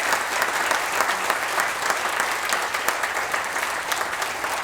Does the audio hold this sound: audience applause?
yes